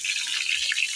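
Water is poured into a pan of cooking eggplant, a brief steady gush close by with no speech.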